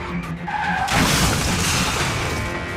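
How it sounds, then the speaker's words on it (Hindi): A white Bolero car speeding into a blue tractor on a road: a sharp tire skid gives way to a loud, sustained crash roar with shattering, heard up close with no voices. "सफेद रंग की बोलेरो कार तेजी से आई और नीले रंग के ट्रैक्टर में जा घुसी"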